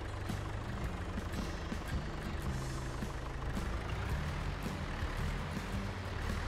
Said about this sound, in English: I love this old tractor.